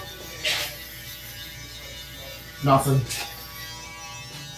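An electric shaver hums steadily at close range while trimming hair, with a brief spoken word partway through.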